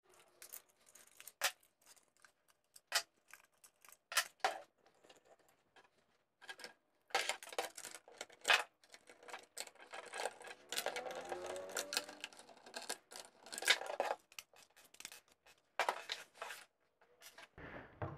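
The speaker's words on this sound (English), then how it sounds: "now that we've taken the screws off, we should be able to get into this crack and simply pry our way" Small metallic clicks and scrapes of a screwdriver removing screws from a router casing, sparse taps and rattles up close in a quiet room, with a busier patch of fiddling midway.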